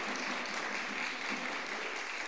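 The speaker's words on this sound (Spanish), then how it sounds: "Démosles un aplauso a ellos de bienvenida también para la gloria de Dios." A church congregation applauds steadily to welcome first-time visitors, a soft even wash of many hands clapping at a distance with no break.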